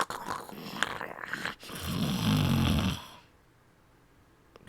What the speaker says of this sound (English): I can hear her happily breathing in her sleep.